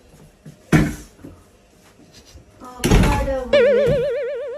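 A home door is shut with a couple of heavy thunks and knocking clatter close by, and raised voices talk around the impacts.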